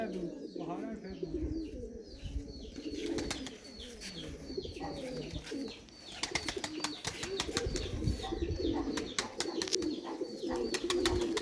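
Breeder pigeons coo in low, rolling murmurs from a loft, steady and fairly faint, with sharp clicks and rustles scattered through and a voice speaking faintly in the background.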